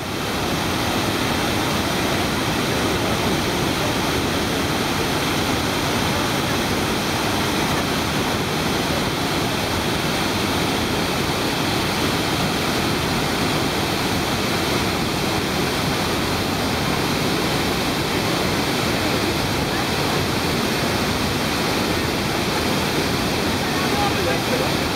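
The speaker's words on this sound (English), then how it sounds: "you can walk down and see the entire valley of waterfalls" Iguazu Falls in Brazil, where a valley of waterfalls spreads below the Garganta del Diablo, gives off a massive, unbroken roar of falling water, loud and constant from start to finish.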